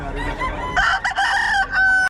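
A rooster of the native Melting Black breed crows loudly and close by in a single drawn-out call, following a stretch of faint background noise and low murmuring.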